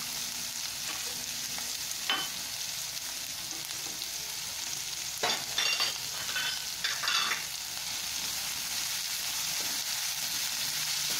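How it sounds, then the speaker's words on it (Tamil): Green chillies, ginger, shallots and curry leaves stir-frying in a pan for fish gravy, a steady soft sizzle throughout with a few scraping stir strokes of the spoon partway through, close and alone without talk. "பச்சை மிளகாய், சின்ன வெங்காயம் எல்லாத்தையுமே போட்டு ஒன்றா வதக்கணும்."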